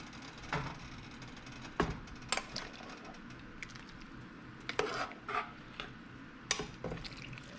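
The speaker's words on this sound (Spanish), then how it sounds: "los frijoles con la carne y también lo que salió del agua de la carne, lo vamos a mezclar todo" Beans and meat with their cooking liquid stirred together in a pot, with occasional spoon knocks and scrapes against the pot over a low, steady background, close and moderately quiet.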